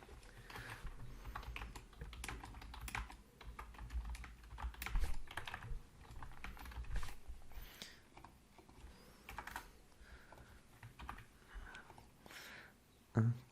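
Quiet, close typing on a computer keyboard, with irregular clusters of soft key clicks and brief pauses continuing throughout.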